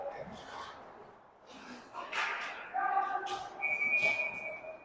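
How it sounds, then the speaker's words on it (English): A referee's whistle sounds at a junior varsity ice hockey game, a thin sustained tone rising out of arena crowd noise and commentary near the end of play. "And we get a whistle."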